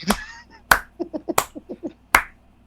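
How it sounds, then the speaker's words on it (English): A few sharp, close claps ring out in a sparse rhythm, with a voice speaking in short bursts between them. "Claps never read good on audio, but I had to."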